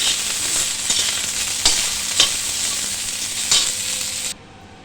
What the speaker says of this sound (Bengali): ফুলকপিগুলোকে সুন্দর করে লাল লাল করে ভেজে নিতে হবে।